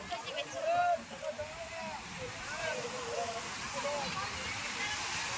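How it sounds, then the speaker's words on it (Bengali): Sea waves wash onto the shore at Puri beach in a steady, broad surf roar, with a voice talking over the water throughout. "একবার সমুদ্রের ঢেউটা একবার দেখো শুধু।"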